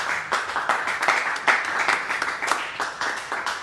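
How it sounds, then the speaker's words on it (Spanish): A church congregation claps together at a worship service, a steady loud round of applause that keeps going throughout without a break. "démosle una ofrenda de palmas al Señor"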